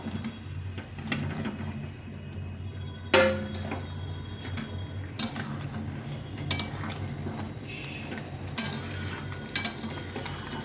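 Fried potatoes go into simmering gravy for aloo dum with peas and are stirred with a metal utensil. Scattered clinks and scrapes ring against the pan, with a few louder knocks.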